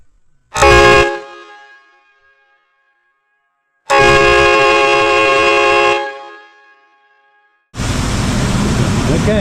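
An Amazon train horn mounted on a vehicle blasts three times, loud and close. A short burst comes first, then a sustained two-second blare, then another long blast cut off at the end, with silent gaps between.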